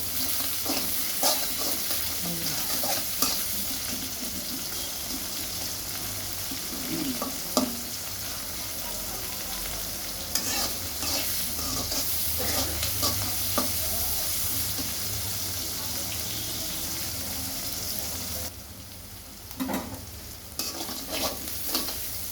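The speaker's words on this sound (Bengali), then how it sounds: "এগুলো দিয়ে নাড়াচাড়া দিব।" Frying ingredients with salt being stirred in a pan, continuous sizzle broken by repeated scraping strokes and light clinks, quieting briefly toward the end before resuming.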